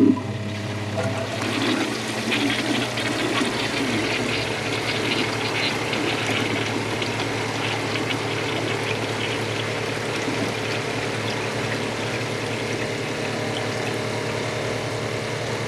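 A Kohler Wellworth Lite toilet flushes with a loud, continuous rush of water that starts abruptly and keeps churning steadily without fading as the tank refills.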